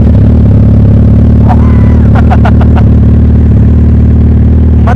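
A Suzuki Hayabusa motorcycle engine with its silencers removed runs very loud and close, a heavy droning idle that stays constant and saturated throughout, with short sharp higher-pitched bursts on top partway through.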